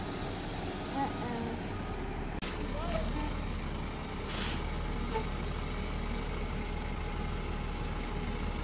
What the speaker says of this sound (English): We're watching the cement truck over there.